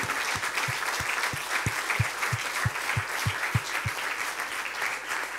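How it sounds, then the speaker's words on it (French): Conference audience applauding steadily throughout, a dense wash of clapping with no voices standing out. "On va vous applaudir,"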